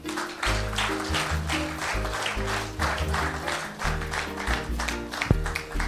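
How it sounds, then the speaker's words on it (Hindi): An audience applauds distributors at a business training event, a steady round of clapping from many hands that carries on throughout, with a strong repeating low rhythmic backing beneath it. "इन खोजियों के लिए तालियां होनी चाहिए।"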